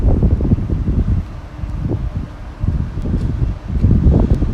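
Wind buffets an outdoor microphone in Oxford, a loud, low rumbling roar that swells and dips in uneven gusts throughout.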